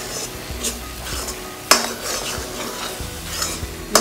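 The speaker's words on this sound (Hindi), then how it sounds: "बीच बीच में हिलाते हुए और कॉर्नर से मलाई निकालते हुए।" Carrot halwa simmering with milk is stirred in a pan, with soft scraping and a low sizzle, plus sharp metallic clinks of the spoon against the pan at intervals.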